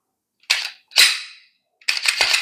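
A pistol slide fitted with an RYG stainless guide rod is racked and released, making three crisp, loud metallic clacks separated by short silences.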